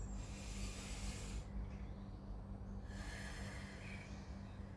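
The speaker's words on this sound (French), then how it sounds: "quand je respire, comme ceci, que je fais rentrer l'air par mes narines, ça veut dire que j'inspire" During a children's yoga session, a person draws air in through the nostrils and then breathes out, making two long, airy, close-up breaths separated by a short pause.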